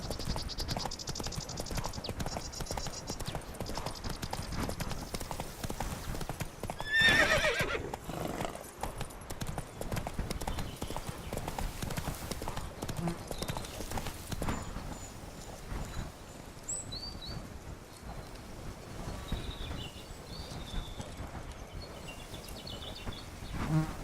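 Roach the horse gallops in The Witcher 3, steady clip-clopping hoofbeats running throughout over an outdoor game soundscape with buzzing insects, and a brief whinny partway through.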